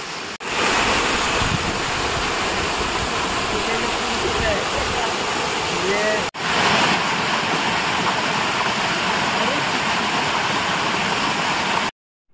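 A village waterfall at Boisar pours in a steady, loud roaring rush that fills the whole scene, close and continuous, with a brief break midway and no voices.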